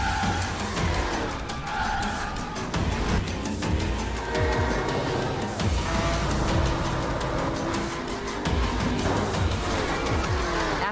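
Racing cars roar through an online multiplayer console racing game, engines revving and tires squealing and skidding in a loud, dense, continuous mix with no voices.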